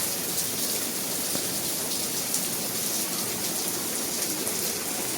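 Steady rain pouring down outdoors under dark clouds, a dense continuous hiss of drops striking surfaces, loud and unbroken throughout with no voices.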